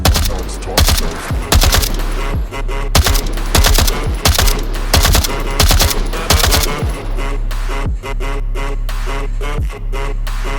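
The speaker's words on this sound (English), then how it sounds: "Sustained, suppressive, fire, move. Accuracy. No, it is not the Russian way. Continuous fucking fire." Loud, continuous automatic fire from an AKM rifle in the Onward video game, with long, dense bursts of rapid shots running almost unbroken and only brief pauses near the end.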